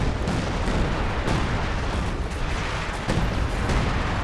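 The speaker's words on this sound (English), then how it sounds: "that assault artillery got a squad" Heavy assault artillery fire in the World War II strategy game Company of Heroes 2, a dense, loud, continuous battlefield barrage of booms and explosions with no pause.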